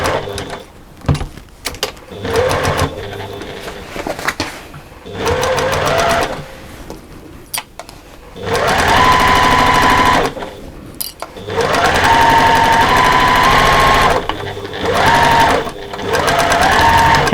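A sewing machine runs in loud, close bursts as it stitches the long seam of a quilted beach bag, speeding up and stopping several times with short pauses between runs.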